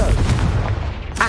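Confringo fire blast spell cast in Hogwarts Legacy, a series of booming low bursts that rumble through the whole moment, loud and close, with a sharper crack right at the end.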